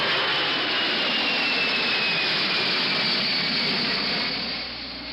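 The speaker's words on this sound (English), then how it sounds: "the Air France SST sent the needle to 123 in effective perceived noise level" An Air France Concorde supersonic jet taking off at Dulles, a loud continuous broadband jet roar with a faint whining tone sliding downward, gradually fading as the aircraft moves away.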